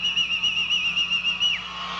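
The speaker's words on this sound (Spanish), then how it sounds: "Miren cómo va a ser el silbido." A sustained, wavering whistle at a political rally in a Caracas neighbourhood, piercing and steady with a slight trill before dropping off near the end, heard alone without voices.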